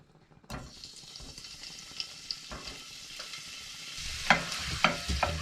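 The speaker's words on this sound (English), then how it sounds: "And now I'm going to add the lardons." Smoked bacon lardons fry in melted fat in a pan, a soft steady sizzle with scattered scrapes and stirring clatters that grow louder and busier near the end.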